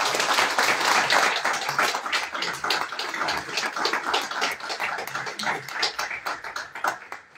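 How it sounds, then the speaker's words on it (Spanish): Audience applause for the organizers of a group at a diabetes talk, steady clapping from a moderately sized crowd that stays even throughout and thins toward the end. "quiero pedir para todos ustedes un aplauso"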